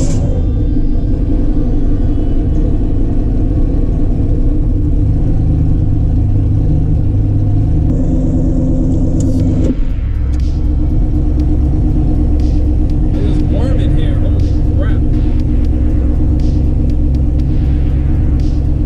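A car with a newly installed fuel cell drives along with a heavy, continuous engine rumble and some clatter, steady and close throughout, with a brief dip partway through and no talking.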